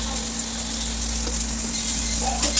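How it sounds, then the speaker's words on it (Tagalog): Onion and garlic sauté in hot oil in a pan for fried rice, a steady, close sizzle with a constant hum underneath and a few faint clinks. "igigisa po natin ang sibuyas at bawang"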